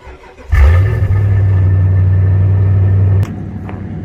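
A truck's engine cranks and catches via automatic remote start, then settles into a loud, steady idle rumble for a few seconds before cutting off abruptly, followed by faint clicks.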